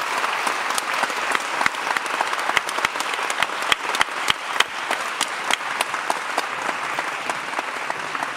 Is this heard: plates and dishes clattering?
no